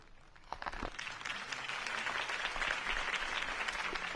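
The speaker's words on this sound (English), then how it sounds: "could have heard that applause" Applause from a large crowd swells quickly into a dense, steady wash of clapping that carries on without letting up.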